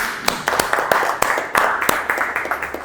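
A group of people claps for a man at a public-sector management lecture, giving sharp, separate hand strikes at a lively pace that carry on briefly and fairly close to the listener.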